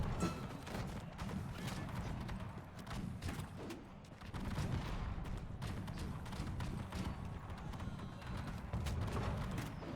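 Scattered gunfire and battlefield clatter from the video game Conqueror's Blade, with sharp reports and rumbling activity spread through a busy, fairly quiet mix, no speech.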